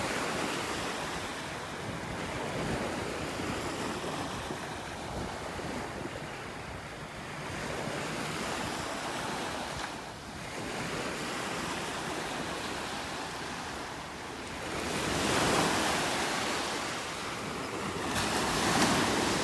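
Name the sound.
ocean waves on a beach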